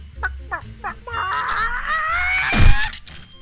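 A hen squawks and clucks in the monster film Carnosaur, a few short clucks followed by a long, rising honking squawk and a low thump, loud and close.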